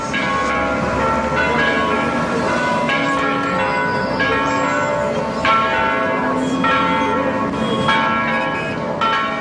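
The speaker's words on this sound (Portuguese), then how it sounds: "O sino você ouve" A church bell rings repeatedly with a rich, resonant tone, its strokes overlapping amid steady city background noise of cars and buses in Santana, São Paulo.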